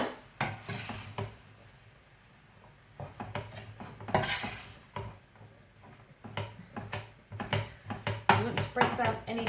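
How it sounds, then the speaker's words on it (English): A spoon stirs a pot of bolognese sauce on the stove, breaking up lumps of meat, giving repeated clinks and scrapes against the pot with a voice talking in between. "I'm just going to give my bolognese another stir."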